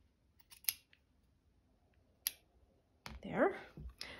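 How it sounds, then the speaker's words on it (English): Scissors snipping paper for a slow-stitch journal cover, a few sharp close snips spread out with quiet gaps between them, then a louder rustle of handled paper near the end. "So I need to cut this bit off."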